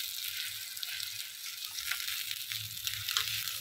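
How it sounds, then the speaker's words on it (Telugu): Onion paste sizzles steadily in a pan while being roasted for mutter paneer: a continuous close, bright hiss with faint soft stirring scrapes and no voices. "ఆనియన్ పేస్ట్, కొంచెం దీన్ని మనం కొద్దిగా రోస్ట్ చేసుకున్నాం, కొద్దిగా ఇలా ఫ్రై చేసుకున్నాం."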